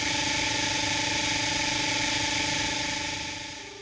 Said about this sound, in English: When the tracing line is fuzzy, the audio will contain static.